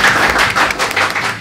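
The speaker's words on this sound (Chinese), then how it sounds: "我哋首先鼓掌多謝神先啦" A church congregation at a Sunday service in Zion Church applauds together, a dense, loud wash of clapping that lasts the whole moment and then thins slightly.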